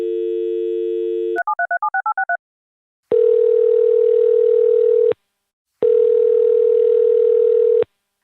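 A landline dial tone plays steadily, then a quick run of touch-tone dialing beeps, followed by two long, loud ringback tones separated by silence while a call is placed.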